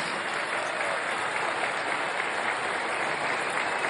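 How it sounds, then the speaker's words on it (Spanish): Large crowd of workers at a Labor Day event at a Mexican oil refinery breaks into loud, continuous applause. The clapping is a thick, unbroken roar with no talk over it. "Un aplauso a nuestros paisanos, a los trabajadores migrantes."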